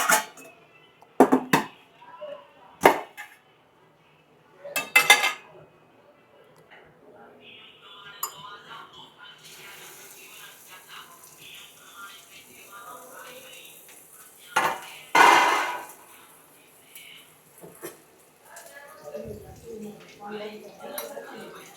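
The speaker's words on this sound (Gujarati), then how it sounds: "જો ચાલુ થઈ ગયા છે વઘારવાનું." Moth beans are tempered in a pot, with sharp metallic clinks and clatters of a spoon against the pot in scattered bursts, then a quieter stretch of faint sizzling before more knocks near the end.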